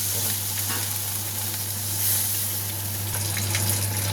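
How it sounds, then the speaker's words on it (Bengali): Water poured into a hot pan of fish curry with hilsa sizzles steadily, a continuous loud hissing fry with faint bubbling under a steady low hum, no voices. "এবার আমি কিন্তু এইভাবে একটু জল দিয়ে দেবো পুরো।"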